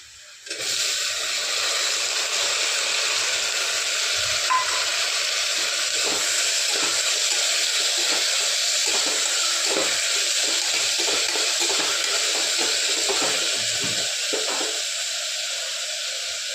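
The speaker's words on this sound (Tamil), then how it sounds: "கொஞ்ச நேரம் வெங்காயம் வதக்கட்டும்" Onions sautéing in a pan for vegetable biryani give off a steady, even sizzle that hisses continuously for most of the stretch, fairly loud and close, dropping off briefly near the end.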